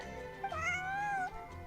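Charcoal, a large cat in Genshin Impact, lets out a single long, close meow that rises and then falls in pitch, heard on its own without talk.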